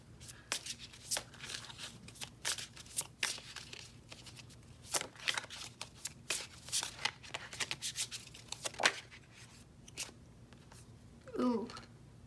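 Tarot cards shuffled and drawn by hand, a long run of quick papery riffles and slaps at close range, ending with a brief murmur of voice.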